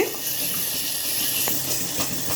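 A liquid of dissolved tomato, tamarind and salt pours into a clay cooking pot for Nagercoil rasam, making a continuous loud splashing hiss with faint clinks underneath.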